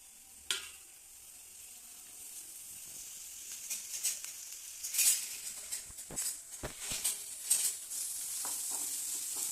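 Chopped onions in a tablespoon of hot oil give a faint sizzle, joined by quiet, irregular scraping as they are stirred, with no voices.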